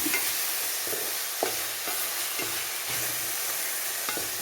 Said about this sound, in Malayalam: ചേനത്തണ്ടിൽ ചെറുപയറുകൾ വെന്തിരിക്കുന്നത് ഇതിലേക്കിട്ട് ഇളക്കും